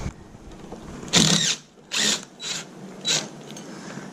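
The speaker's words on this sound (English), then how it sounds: "we're going to use a T30 torx bit to remove the 2 bolts that go through the drive rod" A power drill with a T30 Torx bit works on bolts through a power recliner's drive rod, giving four short, close bursts of whirring and grinding separated by brief pauses.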